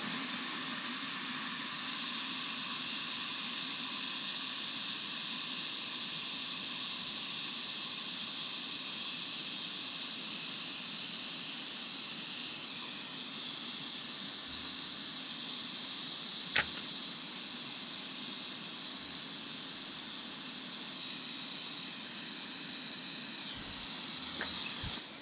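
Steady hiss of a hot-air rework tool blowing from underneath a Nintendo Switch board while a new charging port is soldered on during a repair of an M92 fault, continuous and close, with no talking.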